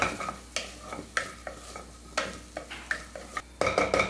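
Washed moong dal being stirred in a pan, a spatula scraping and knocking in regular strokes over a faint sizzle, quiet and close, with a louder burst of frying at the end.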